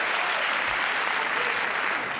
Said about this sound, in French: on l'applaudit. Allez, Patrice.